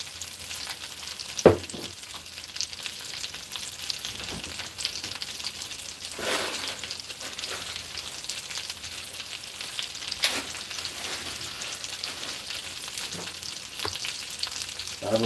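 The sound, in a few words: frying in oil in a pan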